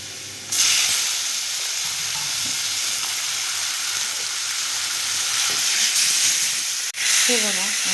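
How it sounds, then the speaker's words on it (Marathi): Roasted tomatoes tipped into a hot pan of Marathi home cooking set off a loud, steady sizzle and hiss that starts abruptly and holds throughout, with a brief clatter near the end. "आता आपण टमॅटो भाजलेले टमॅटो त्यात घालून घेऊया"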